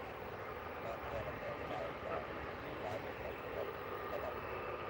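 A Helvetic Airways Embraer 195 jet at Manchester Airport rumbles steadily at a distance, a broad even engine roar holding throughout.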